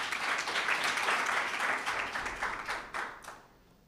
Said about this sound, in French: On l'acclame.